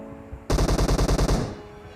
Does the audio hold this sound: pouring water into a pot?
no